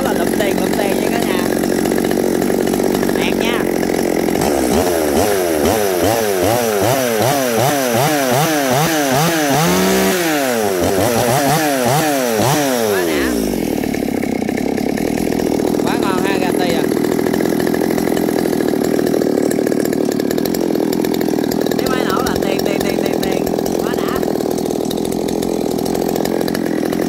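A Stihl 020T chainsaw engine runs loudly and close throughout, idling then revving hard for several seconds before dropping back to a rough idle.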